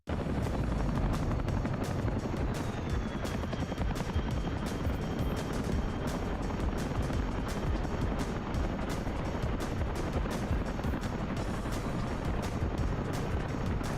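Twin-rotor Chinook helicopters in the flight simulator DCS World, a steady loud rotor thrum and turbine roar that never lets up. The rotor beat pulses rapidly and evenly, with no talking over it.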